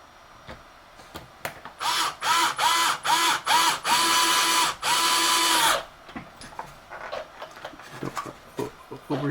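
Small electric motor or driver whirring in repeated short bursts while screws are tightened during a motor install in a Henglong M1A2 RC tank, about six close, loud pulses in the middle with light handling clicks before and after.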